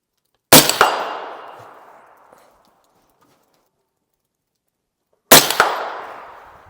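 Two loud suppressed shots from a Ruger SR-556VT rifle fitted with a Raptor 10 .375 suppressor and end cap, each a sharp close crack with a decaying tail, about five seconds apart.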